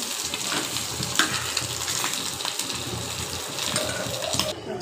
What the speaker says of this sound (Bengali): মাছগুলো এখন তুলে নিয়ে ভাজা হয়ে গেছে প্রায়।